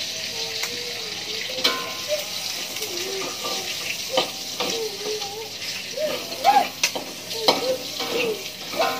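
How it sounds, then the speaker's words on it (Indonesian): Steady sizzling of garlic frying in a pan, with occasional stirring scrapes and a voice talking intermittently over it. "Itu kita goreng bawang putih terlebih dahulu."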